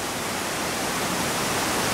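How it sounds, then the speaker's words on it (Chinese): A waterfall on Sumba, Indonesia: a dense, unbroken broadband rush of falling water, steady and close, with no other sounds. "现在来到松柏的瀑布"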